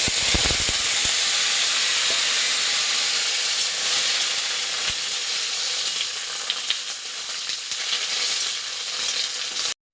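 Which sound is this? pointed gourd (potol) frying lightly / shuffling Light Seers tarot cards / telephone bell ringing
pointed gourd (potol) frying lightly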